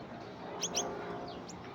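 Caged goldfinches for sale in Baghdad give a few faint, quick chirps, paired near the middle and another pair later, over a steady low hum of room noise.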